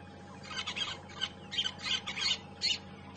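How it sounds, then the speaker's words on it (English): Outdoors on a sunrise safari drive in the African bush, a Burchell's cuckoo calls in a series of harsh, buzzy bursts at a moderate distance over a steady background hum. "Oh, I can hear the Burchell's cuckoo."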